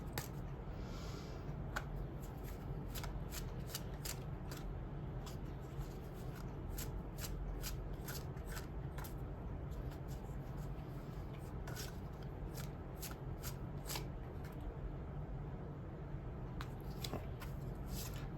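A deck of tarot cards shuffled over and over, a long run of crisp riffling snaps and flutters repeating in quick, uneven bursts at close range, with no speech.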